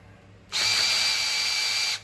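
An electric drill spins the oil pump of a Big Block MOPAR engine to prime it, a steady high whine starting abruptly after a brief pause and holding evenly close by before cutting off.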